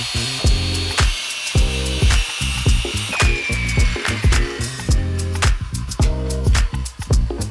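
A power tool makes the first cut in wood for a DIY bed slide drawer in a Jeep Gladiator, loud and close, with a rapid pulsing rhythm of repeated bursts and a rising whine throughout.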